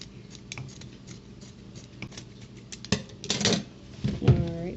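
Scissors cut fabric for doll clothes in a few quiet snips near the end, over a low background with faint handling taps.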